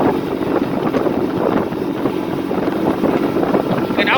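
A Sanya 2 50cc moped engine runs steadily under load while riding, a constant buzzing drone mixed with wind rush against the microphone.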